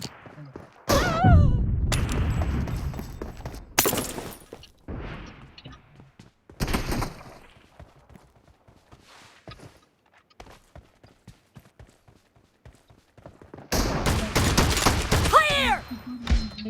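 Shotgun blasts boom in bursts during a BGMI team deathmatch, heavy gunfire clusters separated by quieter stretches of game sounds and player chatter.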